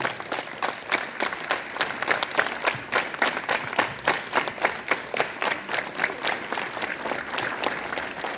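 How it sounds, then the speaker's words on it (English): Students at a school morning assembly clap together in unison, producing a steady, evenly spaced beat of crisp group claps, roughly two or three per second, sustained for several seconds with no talking. "clap together."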